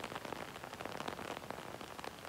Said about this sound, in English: So it's like raining, right?